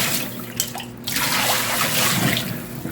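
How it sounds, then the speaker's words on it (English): Water is poured and splashed into a reclaimed kitchen sink in a tiny house build, a steady broadband rush that swells and surges for about three seconds, close and fairly loud. "we are going to dump this down the sink. Let's see if we got any leaks."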